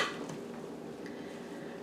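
A utensil stirs zucchini carrot fritter batter in a bowl, close and fairly quiet, with a soft continuous scraping and a few light clinks against the bowl.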